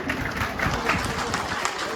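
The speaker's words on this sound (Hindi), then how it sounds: "एक बार जोरदार तालियां हो जाए इनके लिए" Clapping ripples through the room at a Grozep (Buy4earn) Sunday business meeting, a dense crackle of many hands lasting a couple of seconds, with voices talking over it.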